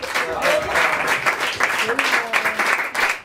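A crowd claps for improvisational theatre performers at a bar venue; the dense, continuous applause fills the whole moment, with some voices mixed underneath.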